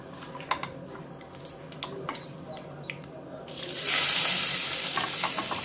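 Onions frying in hot oil for pulao, a steady sizzle with scattered clinks and stirring taps, rising to a louder, brighter hiss partway through as the onions hit the pan.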